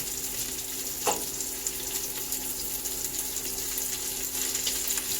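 Prawns tawa-frying in a pan, a steady close sizzle with a watery hiss running throughout and a brief clatter near the start, with no voices.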